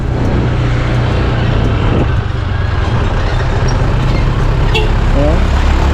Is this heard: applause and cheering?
no